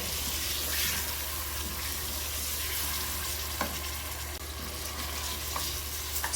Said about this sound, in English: Add in the mutton, around 300 grams used here. Stir fry the mutton.